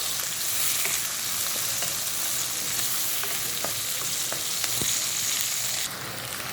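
Ginger-garlic paste sautéing with lightly fried onion in a pan gives a steady, close sizzle, with faint scraping stir clicks scattered through and no talk.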